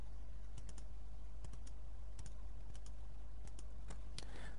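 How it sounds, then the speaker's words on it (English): Keys tapped on a computer keyboard in scattered small clusters over a constant low hum, close and fairly quiet, with no speech. "Let me type this in by magic."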